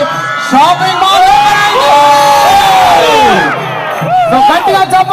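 A large crowd cheers and shouts at the opening of the JC shopping mall in Rajahmundry, a loud, continuous roar of many voices with rising whoops and yells throughout.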